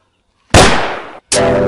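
A gun fires in a comedy serial scene, two loud, sharp blasts in quick succession, each followed by a short ringing decay, with no talk over them.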